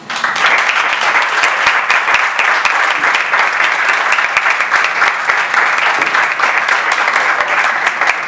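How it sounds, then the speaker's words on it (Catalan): Crowd at a high school graduation ceremony applauding loudly and continuously for about eight seconds, dense steady clapping from many hands. "un fort aplaudiment per lo bé que vos heu portat i per ser un grup excepcional"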